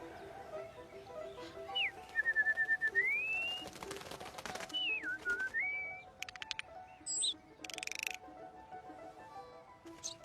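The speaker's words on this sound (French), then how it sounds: "Ta musique, c'est le rappel des oiseaux de Rameau." Someone whistles the melody of Rameau's Le rappel des oiseaux in two rising and falling phrases, fairly close. Soft outdoor background and a few brief chirpy sounds come between the phrases.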